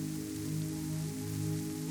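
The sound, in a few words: rain against the windows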